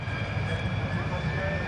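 Polish-built MiG-15 UTI jet of the Norwegian Air Force Historical Squadron taxiing out at an air show, a continuous engine whine and rumble heard at a distance, with a voice talking over it.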